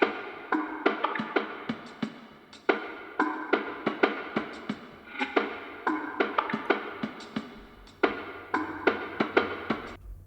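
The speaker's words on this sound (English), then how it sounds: "Now next is the PERC loop, and it sounds like this." A reverb-soaked R&B percussion loop repeats in a crisp, evenly spaced pattern of short hits, moderately loud and alone with no voices.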